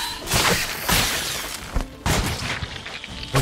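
Bombs blasting in The Witcher 3: Blood and Wine, several loud booming detonations with crackling debris bursting in quick irregular succession, close and heavy.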